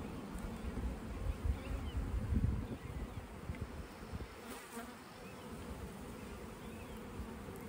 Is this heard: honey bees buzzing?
yes